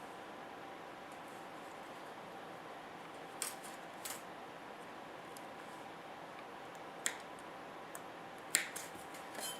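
Small, sharp snips and clicks as a tiny photo-etched metal part is cut free, a handful of faint, isolated ticks spread over a quiet background hiss.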